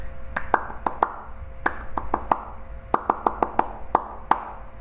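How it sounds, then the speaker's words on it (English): Hands clap out the rhythm of spoken words in a classroom-style lesson, a series of crisp, close claps in short grouped patterns with uneven gaps, alone with no talking. "I want to see if you can clap the rhythm of those words"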